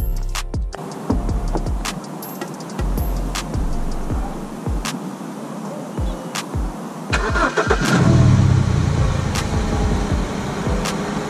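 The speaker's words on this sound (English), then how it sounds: "I'm going to switch the car on now and turn them on" A BMW 1 Series E88/E87/E82/E81 fitted with an HID kit: a series of sharp clicks and ticks, then the engine cranks and starts around eight seconds, settling into a close, steady idle.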